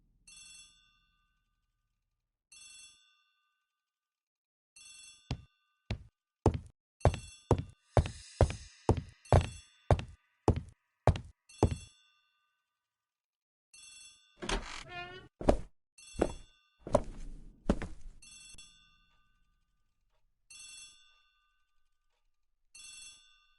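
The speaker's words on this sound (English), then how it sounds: "The telephone in the hall is ringing." A telephone bell rings in a house hallway in repeated bursts, first as faint distant trills, then a loud close run of rapid metallic strikes, followed by a rattling jangle and scattered quieter rings fading out.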